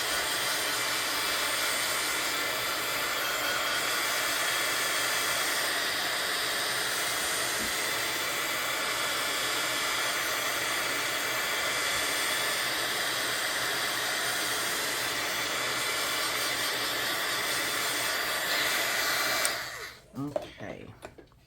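A heat tool blowing hot air to dry modeling paste on a tag background, a loud, steady whirring hiss running unchanged for about twenty seconds before it abruptly cuts off, followed by a few faint handling sounds.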